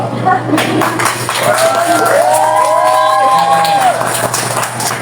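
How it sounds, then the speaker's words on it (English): A loud crowd at a Chinatown mall grand opening claps, cheers and whoops for several seconds, with high shouted calls rising above steady applause and a low electrical hum. "Let's give him a round of applause."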